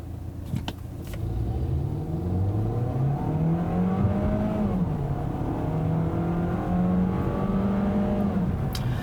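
A 2017 Volkswagen Jetta with a 1.4-litre turbo engine and six-speed automatic driving on the road: a steady engine drone rising and falling in pitch through the gears, with continuous road and cabin noise throughout.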